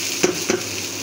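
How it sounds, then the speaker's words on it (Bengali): Noodles frying in a hot pan sizzle with a steady, close hiss, while two quick scraping stirs cut through the crackle. "নুডলসটা দিয়ে দেওয়া হয়েছে, এখন এবার মিক্স করে নিই।"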